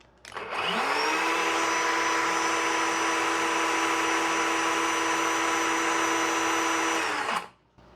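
A Hanabi LB5015 battery electric chainsaw spins up to a loud, steady high-pitched motor whine, holds for about six seconds while the chain is oiled, then winds down.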